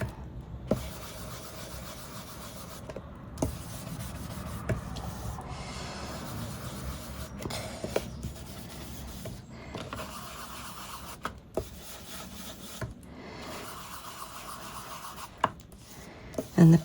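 A larger blending brush works Salvaged Patina ink onto a card background. Soft, close scratchy rubbing strokes repeat irregularly at low volume, with a few light taps between passes.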